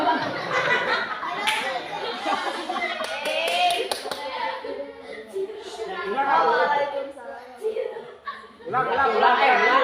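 Clapping from a school orientation assembly audience at SMP At-Tiin in Bogor, with scattered hand claps and child chatter mixed through a lively room, and talk and murmuring running underneath throughout.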